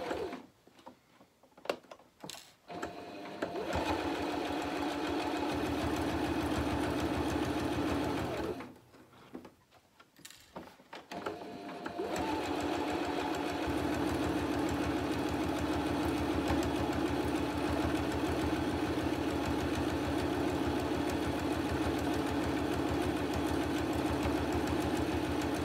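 A sewing machine stitches fabric for a drawstring bag, its loud, steady whirring motor running in two long bursts, with brief stops and handling noises in between.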